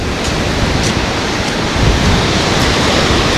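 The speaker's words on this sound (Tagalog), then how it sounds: "taas ang hangin doon, oh. Taas ang alon." Continuous loud roar of high surf and wind on Natangco Island, Marinduque, a dense broadband rush with slight swells, no voices.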